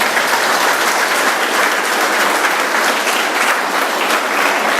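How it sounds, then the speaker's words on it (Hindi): Steady, loud audience applause at a school event in Noida, dense clapping from many hands sustained evenly throughout without pauses or talk. "ये पूरे मैनेजमेंट के लिए एक जोरदार ताली से उनका स्वागत होना चाहिए।"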